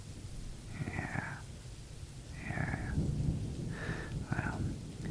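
Low rumbling thunder rolls in repeated swells over a steady bed of rain during a thunderstorm, heard indoors; a soft voice murmurs faintly underneath.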